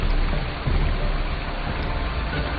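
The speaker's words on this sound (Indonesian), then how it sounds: "tiba-tiba hujan turun ngegebret dengan sangat lebat" Heavy rain pours down suddenly in a forest, a dense, steady, loud hiss of falling water that holds at the same level throughout, with no voices.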